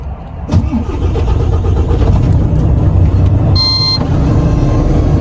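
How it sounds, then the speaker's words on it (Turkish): Renault truck engine cranking and catching, then settling into a loud, close idle. A brief high-pitched tonal squeal near the end sits over the rumble, and no one speaks. "Aracımızı çalıştıralım."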